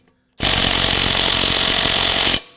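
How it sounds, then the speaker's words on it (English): A DeWalt half-inch mid-torque impact wrench, rated around 350–400 foot-pounds, cranks down a 17 mm nut in one loud, continuous burst of hammering lasting about two seconds, close up and with no talk over it. "So I've got a mid-torque half-inch DeWalt here."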